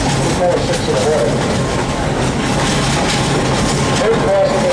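A New Hope and Ivyland passenger train rumbles along the rails with a continuous heavy, loud roar and faint rhythmic clatter, heard from on board with voices in the background.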